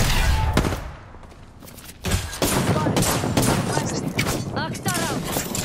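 Gunfire in an Apex Legends match, with a Rampart player using amped guns: dense bursts of rapid shots and a fusillade, loud and close, with a player's voice calling out over the shooting.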